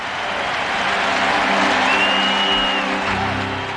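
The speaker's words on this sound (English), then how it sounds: "The crowd stood and roared for 22 minutes." A packed baseball stadium crowd at Camden Yards roars and applauds in a sustained ovation, a broad, loud wall of cheering with clapping and faint tonal sounds mixed in.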